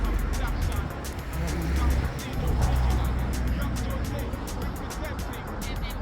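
A private security car from a dog section drives past on a street, its engine and tire noise a steady, moderately loud rumble that swells and eases, while people talk nearby.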